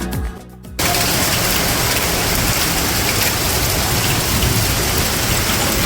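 Hail pelting down in Tossa de Mar, Spain, a dense, loud, unbroken rattle that starts abruptly after a brief quieter moment and continues steadily.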